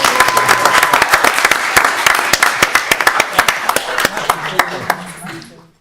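Audience at a town council meeting applauding and cheering participants, a loud burst of many hands clapping with scattered whoops that gradually thins and fades out, with some talk underneath.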